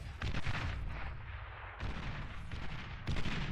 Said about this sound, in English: We got an artillery duel.